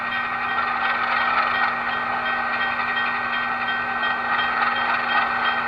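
A model RS-18 locomotive with a DCC motor runs at a steady speed step, giving a continuous mechanical hum and whir with a constant tonal drone, close and even throughout with no talking.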